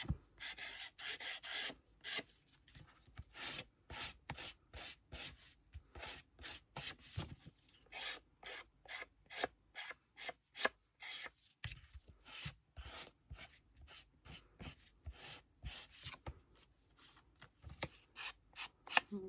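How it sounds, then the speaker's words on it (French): A file rasping along paper edges for scrapbooking, in quick repeated strokes with brief pauses between bursts, close and fairly quiet. "on vient mettre un petit coup avec la lime pour enlever tous ces petits minons"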